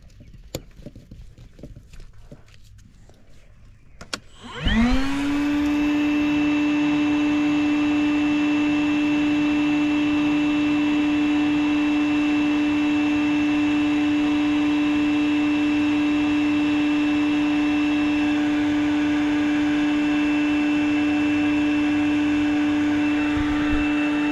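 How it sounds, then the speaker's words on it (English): A wet vacuum starts up after a few seconds of faint clatter and then drones steadily, loud and near, with a steady whine as it sucks water out of an HVAC emergency drain pan. "I can vacuum this out while I'm waiting on him though."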